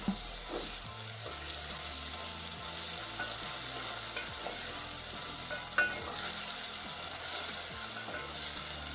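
Unripe matoke bananas are stirred with other ingredients in a cooking pot. A steady, fairly quiet hiss and sizzle carries on throughout, with occasional soft scrapes and knocks of the spoon.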